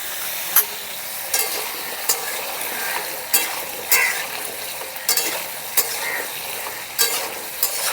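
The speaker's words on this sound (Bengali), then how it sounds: "আর ঢাকা দিয়ে লাল করে ভেজে নেব আলুগুলোকে" Salted potatoes for aloo posto fry in a covered pan with a constant close sizzle, broken by regular sharp clinks and scrapes of stirring about once a second.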